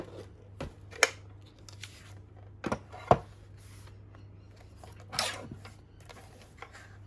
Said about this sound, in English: Righty, so I'm gonna trim them down.